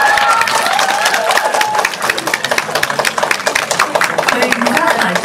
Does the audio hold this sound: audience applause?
yes